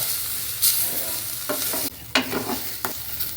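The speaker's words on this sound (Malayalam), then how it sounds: "ലോ ഫ്ലെയിമിലിട്ടിട്ട് വറുത്തെടുക്കാം" Grated coconut and raisins roast gently over a low flame, a soft dry sizzle broken by a few distinct, close scraping stirs, with no talking.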